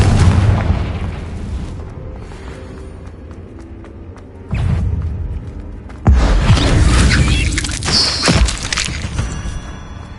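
Hogwarts Legacy's Confringo fire spell erupts in heavy booming blasts, one thump then a second louder explosion with crackling debris, all close and loud with no speech.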